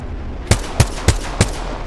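Four evenly spaced, punchy gunshots in Apex Legends, sharp and close, ringing out over a steady background hum.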